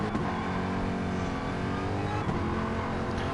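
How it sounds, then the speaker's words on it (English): Race car at Bathurst in a one-hour endurance race, short shifting with wheel spin, a loud continuous engine roar close by with no talking. "Hear the short shift there where the car was wheel spinning."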